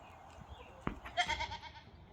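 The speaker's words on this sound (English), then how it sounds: "I hear you, goats." Goats bleat on a farm in a couple of short calls around the middle of the clip, fairly faint and set against quiet outdoor background noise, with no talking.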